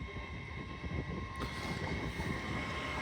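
An LNER Class 801 train departs York station on the East Coast Main Line, bound from Newcastle to London King's Cross. A continuous, loud rumble of rolling stock with steady electric whine is heard nearby, without talk.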